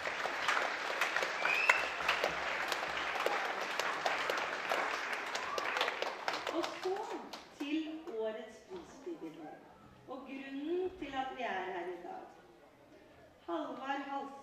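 An award ceremony audience gives a sustained round of applause that dies away after about seven seconds, followed by a person speaking.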